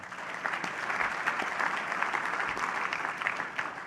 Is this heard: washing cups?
no